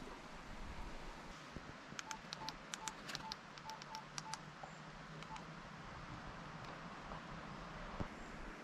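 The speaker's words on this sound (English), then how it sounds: "I'm about to call my mother on my satellite phone" A series of short electronic keypad tones from a satellite phone being dialed outdoors near trees by Baker Lake, about a dozen quick beeps in irregular bursts over steady wind and distant road noise.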